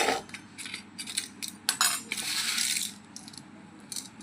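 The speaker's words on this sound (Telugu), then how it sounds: "ఇప్పుడు దీంట్లోనే కల్లుప్పు అయితే వేసుకున్నా" Coarse rock salt poured into a pot of chiraku curry already seasoned with turmeric, with close crystals rattling and clinking against the metal in scattered bursts, then a longer dense patter of grains.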